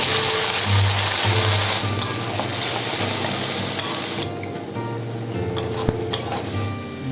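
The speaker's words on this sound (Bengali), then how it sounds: "এরপর পেঁয়াজ বাটাটা দিয়ে দেব।" Onion paste fries and sizzles in a pan for a dhaba-style egg curry as a spatula stirs it, scraping and clinking against the metal over a continuous close hiss that eases partway through.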